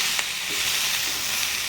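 Mango curry ingredients fry lightly in a pan, giving a steady, even sizzle throughout with no one talking.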